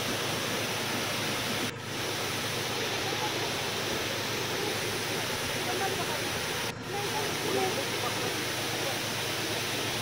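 The Gelok waterfall in the Maliau Basin forest, its water stained red, pours with a dense, steady roar that fills the whole stretch, loud and close, with no talk.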